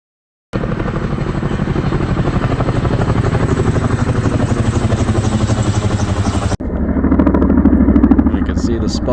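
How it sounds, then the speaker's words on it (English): Firefighting helicopters dipping water from a lake during a wildfire evacuation warning, heard as a loud, steady, rapid rotor thumping that fills the whole clip, with a brief cut and a slight change in tone near the end. "And the helicopters, or hummingbirds as I call them, were dipping in and out of the lake that I live by."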